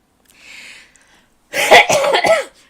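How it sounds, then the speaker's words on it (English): Several harsh coughs in a quick cluster, close and loud, after a brief faint hiss at the start. "but I will be coughing, and I apologize"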